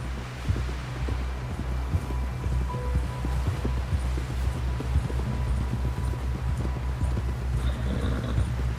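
Steady, rapid hoofbeats of a galloping horse in Red Dead Redemption 2, close and continuous, over a low rumbling background.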